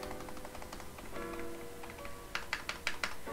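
Light clicks on a Logitech G213 keyboard tap sparsely at first, then a quicker burst of louder keystrokes near the end, close and fairly quiet.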